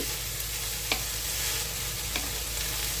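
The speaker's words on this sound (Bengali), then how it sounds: "দিয়ে ভালোভাবে নাড়াচাড়া করে নিচ্ছি।" Drumstick flowers stirred in ghee over a low flame give a steady, close sizzle with a couple of brief scraping clicks from the spatula.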